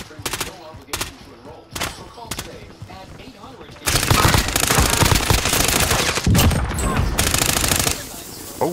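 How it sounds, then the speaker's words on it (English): Call of Duty: Modern Warfare multiplayer gunfire: a few sharp separate shots, then a long loud burst of sustained automatic fire with brief pauses, with voices talking over it. "Just keep shooting"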